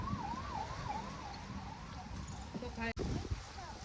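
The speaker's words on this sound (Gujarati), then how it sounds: "એમ તો માઇન્ડ છે જ નહીં કે 108 નથી, પોલીસની ગાડી છે" A police car siren wails with a rising and falling tone, fairly faint and distant, under a noisy outdoor background with people talking nearby.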